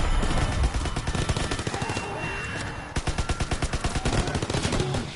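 A Tesla gun fires in a video game with fast rhythmic bursts of rapid crackling shots, loud and close, pausing briefly before a second sustained volley, with no talking.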